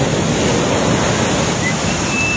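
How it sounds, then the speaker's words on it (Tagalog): Big ocean waves break on a beach at a resort in Toril, Davao City, making a loud, steady roar of surf and wind noise that fills the whole stretch without a pause. "laki ng alon eh, oh"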